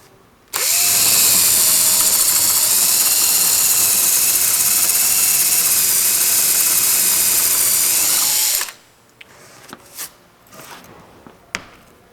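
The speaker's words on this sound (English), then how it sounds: "I'm going to use an 11/32 drill, and I must drill in at least the length of that thread" A power drill with an 11/32 bit bores into a wooden 2x2, a loud, steady whine lasting about eight seconds before stopping abruptly, followed by a few faint knocks and handling clatter.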